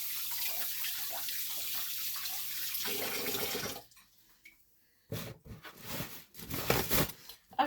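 Hands being washed under a running kitchen tap, a steady hiss of flowing water that cuts off partway, followed by quieter drips, splashes and handling sounds.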